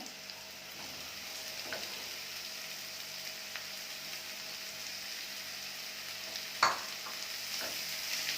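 Egg stir-frying with spring onions in a pan, a continuous quiet sizzle broken by occasional scrapes and one sharper clatter of the spatula.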